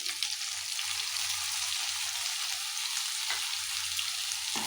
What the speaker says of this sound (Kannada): ಒಂದು ಕಪ್ಪಷ್ಟು ಕಟ್ ಮಾಡಿರೋಂಥ ಟೊಮೊಟೊ ಹಾಕ್ತಾಯಿದ್ದೀನಿ